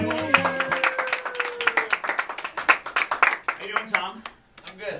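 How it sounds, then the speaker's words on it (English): A concert crowd gives the band a round of applause on opening night: a dense, rhythmic burst of clapping with voices talking and calling over it, dying away near the end. "Nice round of applause."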